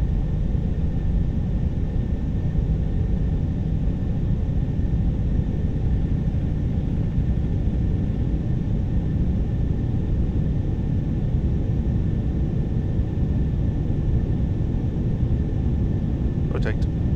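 Boeing 747-400 jet engines at takeoff thrust in a flight simulator produce a steady, loud broadband roar that holds unchanged throughout, with a faint click near the end.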